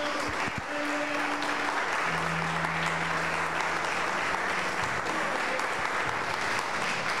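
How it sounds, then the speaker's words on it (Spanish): A church congregation breaks into sustained applause, dense steady clapping filling the room from start to finish, with a few voices and a low musical tone underneath at the start. "Dele un aplauso a Dios, hermano."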